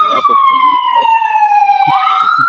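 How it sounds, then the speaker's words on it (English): A loud ambulance siren wails nearby during a street rally at Dupont Circle in Washington DC, its steady falling tone sliding downward before jumping back up, with people talking faintly beneath it. "that one's just an ambulance"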